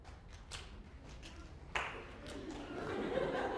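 Students in a university psychology lecture hall clap on cue, a few scattered claps at first, then a sudden burst swelling into a wider ripple of clapping and murmur.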